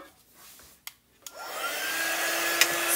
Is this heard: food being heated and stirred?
no